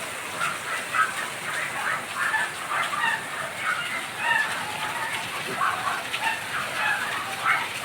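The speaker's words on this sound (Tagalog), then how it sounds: "Lakas ng ulan." Heavy rain from a passing typhoon pours steadily as a constant, fairly faint hiss, with scattered bird-like chirps and other small sounds over the top.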